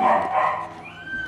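A rescued pit bull with a large head, bitten up and hurt in the leg, gives a short yip-like bark that trails off into a thin whine, close by and alone.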